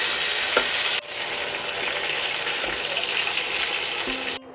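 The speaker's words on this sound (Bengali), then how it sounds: "মাছটা ভালো করে আমি কড়া করে ভেজে নেব" Fish frying hard in hot oil, a loud, dense, continuous sizzle heard close up with a few faint clinks, and a brief drop in level partway through.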